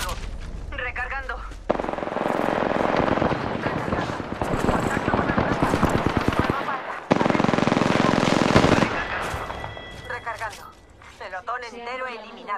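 Rapid automatic gunfire rattles in bursts during an Apex Legends match, loud and close, with game voices and in-game callouts between and over the shots.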